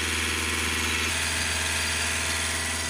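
A car engine, with a diesel particulate filter being tested, runs steadily at a held speed of about 2000 RPM, giving a constant, even hum with a faint whine and no talking.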